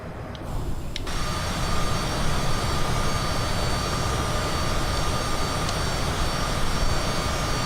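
Cessna Citation CJ4 jet engines in Microsoft Flight Simulator 2020 roar steadily through a climb after takeoff, a loud, constant broadband whine and rush with a thin tonal hum on top, no talking.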